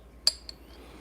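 Two light clinks of coffee cups touching in a toast, a bright tap followed by a softer second one, close and otherwise quiet.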